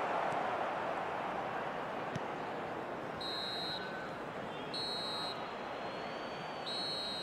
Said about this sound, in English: Referee looks at his watch and blows his whistle